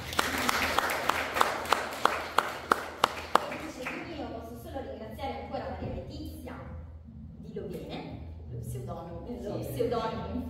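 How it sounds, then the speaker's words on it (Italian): At a book conference, a short run of loud, evenly spaced claps rings out at first, then gives way to a person speaking. "Siamo qui e direi un applauso su questo."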